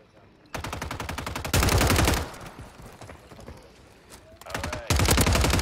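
Gunfire from Call of Duty: Warzone on the Vondel map, loud rapid automatic bursts in several long strings with quieter gaps between, no talk over it.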